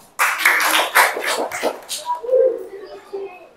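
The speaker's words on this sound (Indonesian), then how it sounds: "tepuk tangan dulu" Short burst of hand clapping in a classroom coaching session, several quick claps over about two seconds, then fading into murmured talk and room noise.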